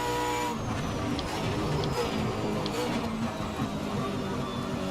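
A supercar in Assetto Corsa racing at Watkins Glen, its tyres locking up under heavy braking. A screechy skid rides over a steady, loud engine drone with a few short squeals.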